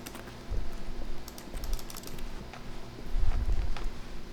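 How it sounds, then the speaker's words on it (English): Footsteps in The Stanley Parable video game that sound like computer keyboard typing, quick clicky taps in short bursts, close and fairly loud, with a brief pause between runs. "So why does it sound like someone's typing on a keyboard instead of actually touching things?"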